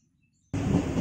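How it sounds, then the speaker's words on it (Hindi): A local train at an Allahabad halt starts up abruptly after near silence, a loud, steady rumbling roar close by. "ट्रेन में ये लोकल ट्रेन है इलाहाबाद की"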